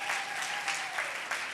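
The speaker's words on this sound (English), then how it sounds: "Can we just start off with another big round of applause for our incredible performers" An audience at a ceremonial swearing-in event gives Polynesian dancers and taiko drummers a round of applause, heard as brief, dense, even clapping with small swells and no voices on top.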